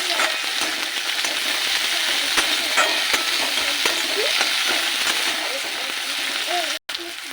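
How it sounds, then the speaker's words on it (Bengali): Chopped green chili and chopped tomato frying in a pan for stuffed eggplant, a constant close sizzle with stirring clicks and soft wet spatters, briefly cutting out near the end. "দিয়ে দেবো লঙ্কা কুচি আর দেবো টমেটো কুচি এগুলো একটু ভেজে নেব"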